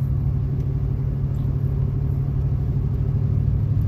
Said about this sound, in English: if you want to just listen to the exhaust